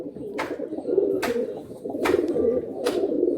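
Racing pigeons at a loft sale coo in soft low murmurs, broken by several sharp bursts of wingbeats or rustling. The birds are close, in a quiet setting, with no speech.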